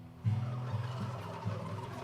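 Breeder turkeys in a barn gobbling, with several loud, close, rapid warbling calls overlapping in quick bursts over a low barn hum.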